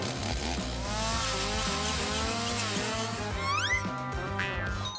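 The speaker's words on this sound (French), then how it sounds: "Je scie des tuyaux, tout le monde." A power saw cuts through pipes during a home craft project, giving a continuous loud buzzing whine that shifts in pitch, with rising sweeps near the end and no voices.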